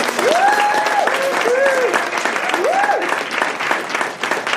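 An audience applauds the speakers at a Truthsgiving panel event, sustained clapping running the whole stretch while a voice talks or sings over it in the foreground.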